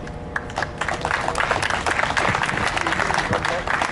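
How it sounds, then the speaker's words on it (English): A crowd at an outdoor rally claps in a dense, steady burst of applause that swells and holds for several seconds. Voices and cheers mix into the clapping. "Can I get a round of applause for her bravery as a survivor?"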